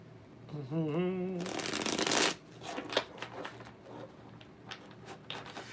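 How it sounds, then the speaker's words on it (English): A brief tonal voice-like sound, then a loud riffle of playing cards being shuffled, followed by lighter card taps and handling noises. "At least the cards will be nice and shuffled."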